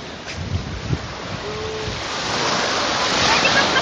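Ocean waves and wind at Gyeongpo Beach in South Korea, a steady broad wash of surf with wind buffeting the microphone, growing slightly louder toward the end, with a few faint low thumps.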